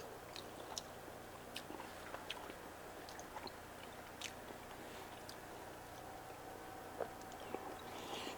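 Close, quiet chewing of tender pibil pork clumped with a piece of tortilla during a taste test, soft wet mouth sounds with occasional small clicks over a low steady background hum.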